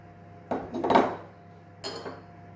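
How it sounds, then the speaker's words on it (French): A spoon stirs thiakry with crème fraîche in a bowl, giving two short bursts of clinking and scraping against the bowl in a quiet room with no voices. "Je mélange ici avec la crème fraîche."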